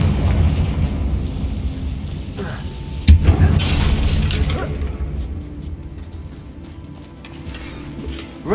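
A Confringo fire spell explodes in Hogwarts Legacy, a sharp boom around the middle over a dense, rumbling game soundscape that fades afterward.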